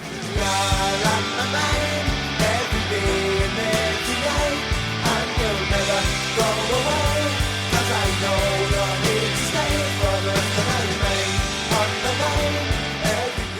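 A dense, loud rock track plays with driving drums, distorted guitars and vocals over a steady, energetic beat throughout.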